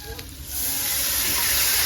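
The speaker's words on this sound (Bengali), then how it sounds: "তো বন্ধুরা বাটি ধুয়ে একটু জল দিয়ে দেবো," A splash of water hits hot spice masala with red chili powder in a pan. A quiet start gives way to a loud, steady hiss and sizzle that keeps going without a break.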